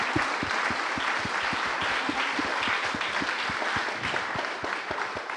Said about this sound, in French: J'aimerais qu'on puisse les applaudir pour...